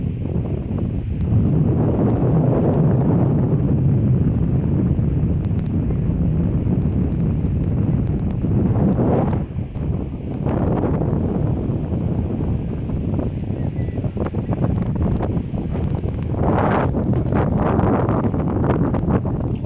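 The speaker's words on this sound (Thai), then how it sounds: "บรรยากาศก็ลมพัด แรงกันนะเสียงลมก็อาจจะแทรกในคลิปนะ" Strong wind at a seaside fishing pier at low tide buffets the microphone in a loud, continuous roar that swells and dips throughout, with a few faint rustles underneath and no talking.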